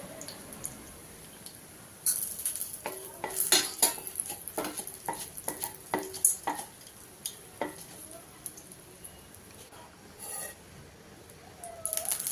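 Urad dal fries in a pan with a soft, steady sizzle while a spoon scrapes and clinks against the metal in irregular bursts, close by and fairly quiet.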